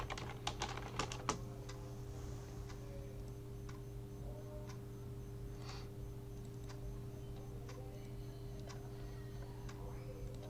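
Keystrokes on a computer keyboard while a name is entered, a quick cluster of clicks early on and then sparse, scattered taps over a steady low hum, with faint voice in the background.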